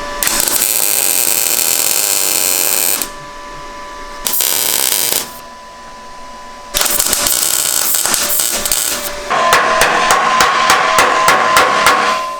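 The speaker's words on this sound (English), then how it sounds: "I'm gonna tack it in, take the rack off, weld them in place" Loud welding bursts and grinding on rack mount brackets fitted to a Mazda Miata during a right-hand-drive conversion, in several long harsh stretches separated by short pauses, ending in a rapid clattering run.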